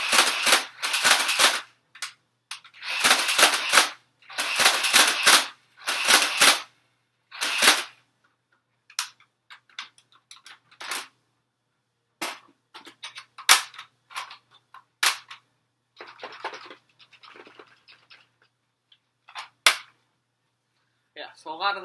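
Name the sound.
Nerf Stampede ECS blaster firing darts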